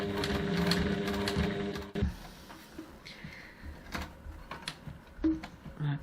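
A sewing machine runs steadily for about two seconds while stitching through thick layers of a bag, then stops and gives way to quieter handling and clicks.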